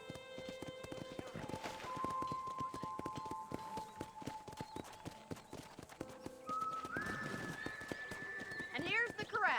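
Horses at a corral in the Red Dead Redemption video game clop their hooves in an irregular stream of close hoofbeats, with a whinny near the end and a voice talking briefly over part of it.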